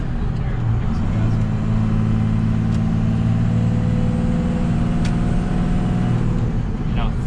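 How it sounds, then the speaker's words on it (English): A car with a post-intercooler swap drives under turbo boost, its engine droning steadily with a rising tone as the gas is applied, while someone talks over it. "even when I give it some gas"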